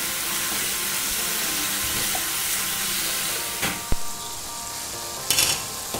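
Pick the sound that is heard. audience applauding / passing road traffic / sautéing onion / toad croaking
sautéing onion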